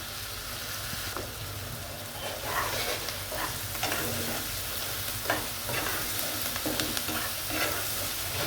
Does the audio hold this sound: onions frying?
yes